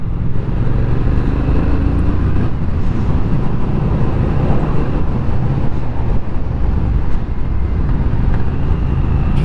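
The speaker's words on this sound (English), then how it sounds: "Just sort of nursing through the gears there, just to experience that torque again at the lower" A 2021 Triumph Speed Twin motorcycle engine rides steadily, its loud, constant exhaust drone pulling through the gears with little change in level, joined by wind noise.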